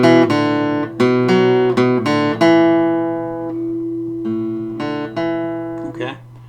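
Single notes of a beginner guitar riff picked on electric or acoustic guitar, about ten plucks in a halting rhythm with a sustained ringing note in the middle, close and clear with no talking.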